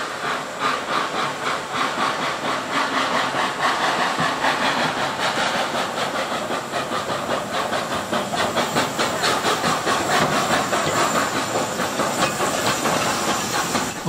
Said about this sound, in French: Le tramway à vapeur en train d'arriver avec son wagon rempli de passagers